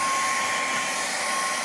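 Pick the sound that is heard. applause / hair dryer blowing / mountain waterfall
hair dryer blowing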